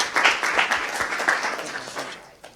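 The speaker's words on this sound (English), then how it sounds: "I think the panel deserves a round of applause." A panel audience at a session on IPv6 success stories breaks into brief applause, a scattered, moderately loud patter of clapping that tapers off over a couple of seconds.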